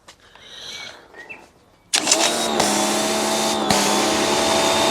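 A Parkside pressure washer from Lidl starts abruptly after quiet handling noises. Its loud, steady motor whine and spray then keep going to the end, broken only by brief dips.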